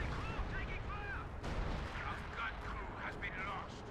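Artillery fire from a Priest self-propelled gun in Company of Heroes 2, a dense run of booming shots and rumbling impacts in a steady battle din, with faint game voices over it.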